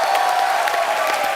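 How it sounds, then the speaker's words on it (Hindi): A studio audience at a TV comedy show applauds in a short, steady burst of dense clapping at moderate volume. "तो जोरदार तालियां हो जाए।"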